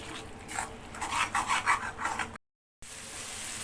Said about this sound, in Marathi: छान आता आपल्याला हे मसाले तेल सुटेपर्यंत भाजून घ्यायचं आहे